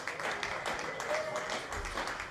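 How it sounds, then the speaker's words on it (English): Applause from a crowd at a jazz fundraiser, dense steady clapping at moderate volume with some voices mixed in, continuing throughout. "give them a round of applause."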